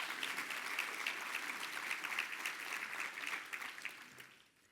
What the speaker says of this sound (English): one more big round of applause for all of our volunteers who helped out that day